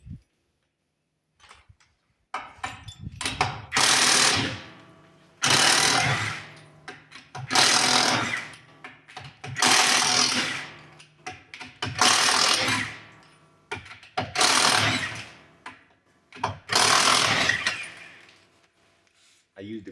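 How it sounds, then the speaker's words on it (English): Impact wrench fitted with a chrome socket working on a car's front suspension, firing in about seven loud, evenly spaced bursts of rattling hammering, each roughly a second long with brief pauses between. "I used a chrome impact on my socket."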